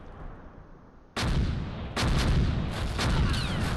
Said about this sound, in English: And then the mortars. We're going to hit this area that they're running for.